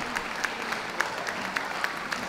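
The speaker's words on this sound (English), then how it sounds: "Could we give those leaving the ring a round of applause" Applause at a dog show as toy-group dogs such as the Pomeranian and Maltese leave the ring: a steady, dense wash of clapping from a crowd, with a few sharper individual claps standing out.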